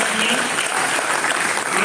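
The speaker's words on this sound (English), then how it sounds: "Stand if your name is called, give you a round of applause." An audience at a school honors assembly claps loudly and densely in a brief, continuous burst, close and unbroken throughout.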